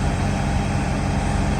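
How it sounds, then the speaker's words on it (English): Ferrari engine and exhaust idling as a steady, deep low rumble with a continuous even drone throughout, fairly loud and close, no voices. "the exhaust sound, the car sounds so good"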